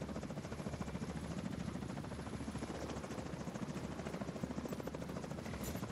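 Helicopter from the video game Destiny 2, a steady rapid rotor chop with a droning engine buzz, fairly faint and continuous without voices over it.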